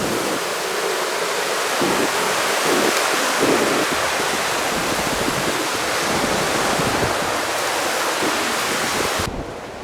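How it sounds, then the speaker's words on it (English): Ocean surf at Meijendel beach, a steady broadband roar of breaking waves mixed with strong wind buffeting the microphone, loud and continuous throughout. "We made it to the ocean!"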